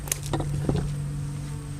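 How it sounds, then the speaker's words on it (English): Honeybees gathering water drone around a soft-edged cypress pond in a low, steady hum, with a few brief taps and rustles near the start before the buzz settles into an unbroken background. "the bees are working, and they're working water"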